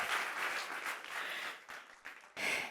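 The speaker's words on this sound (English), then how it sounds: "All right, applause" An audience at a debate competition finale in Kerala gives faint, scattered applause that dips briefly and then surges again at the end.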